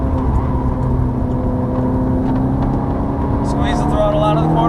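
A Ferrari F430 engine pulls hard out of a corner with a sustained loud, close drone that rises in pitch under acceleration, while a voice talks over it.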